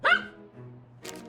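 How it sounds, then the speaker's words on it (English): A small cartoon dog gives a short, bright yap followed by a softer whimpering tone, close and clear, with a second brief yelp at the end. "Oh, lovely little pooch."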